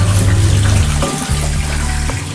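Soapy water from washing clothes is poured out of a container, a loud close gushing and splashing stream with brief breaks and gurgles.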